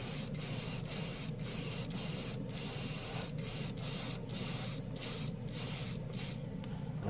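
A spray gun lays down a final coat of paint in steady, close bursts of hiss, each pass broken by short, regular pauses.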